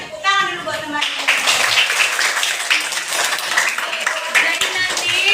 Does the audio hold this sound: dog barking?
no